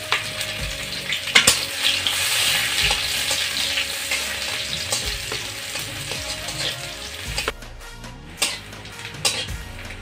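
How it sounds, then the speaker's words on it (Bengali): Chopped onion and garlic sizzle steadily in hot oil, loud and close, with occasional stirring scrapes and clinks of a utensil against the pan. "পেঁয়াজ রসুন কুচি আমি একটু ভেজে নেব।"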